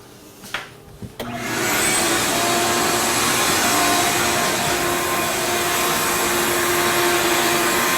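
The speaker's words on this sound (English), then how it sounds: "a quick vacuum gets the debris up" A vacuum cleaner starts up after a couple of brief clicks and then runs loud and steady, close up, as it sucks debris from a Tesla car floor mat.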